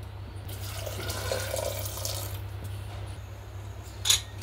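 Water pours steadily into a pressure cooker holding a spiced biryani mix with desi ghee, a continuous moderate splashing stream with a low steady hum beneath and a brief clink near the end, no talking.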